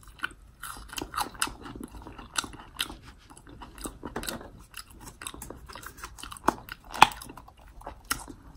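Close-up loud chewing and smacking of Taco Bell food such as a quesadilla, with irregular crunchy bites and wet mouth clicks repeating throughout, one sharper crunch standing out near the end.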